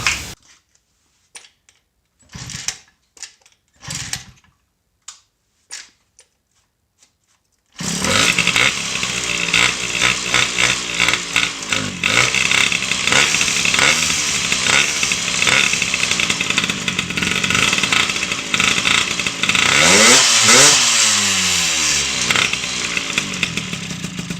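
An MBK 51 moped fitted with a Janelli exhaust gives a few brief knocks and clatters amid silence, then catches and runs loud and close with a steady buzzing roar that rises in a rev near the end.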